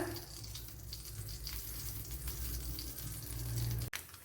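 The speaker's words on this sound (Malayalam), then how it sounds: "ഇവിടെ കടുക് പൊട്ടിയിട്ടുണ്ട്" Steady hiss of hot oil with scattered small pops and crackles of mustard seeds, close up, ending in a brief clatter.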